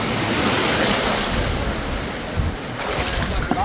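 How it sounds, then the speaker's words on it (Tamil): Ocean surf crashing against an island shore in Tanzania, a steady loud wash of waves with wind buffeting the microphone and a few sharper splashes near the end. "அது அலை அடிக்கும் பின்னாடி வருது"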